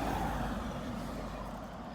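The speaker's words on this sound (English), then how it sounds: "car coming." A motor vehicle on a road near Victoria Falls, Zimbabwe, approaches as a steady, close engine rumble with broad road noise that holds loud and even for the whole two seconds.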